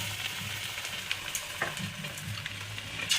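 Steady sizzling and crackling of vegetables frying in a hot wok, with occasional stirring scrapes, close and fairly loud, no voices.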